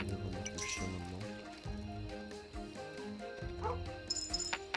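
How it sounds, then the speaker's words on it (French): A dog barks a few times in the video game Kingdom Two Crowns, mixed with game music and watery squelching effects, at moderate loudness and with no speech. "où est-ce que tu aboies mon petit chien?"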